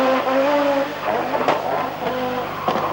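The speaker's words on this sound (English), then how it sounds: "Stig uses every bit of the road and the pavement to narrow the gap to Salonen" A 1985 World Rally Championship car, a roughly 500 bhp rally machine, races flat out along a stage, its engine note rising and falling loudly and close throughout, with a brief tyre squeal.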